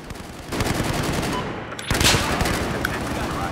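Sustained automatic gunfire in the Battlefield 4 multiplayer shooter, a dense, loud burst of rapid shots that runs through the whole stretch with a brief dip midway.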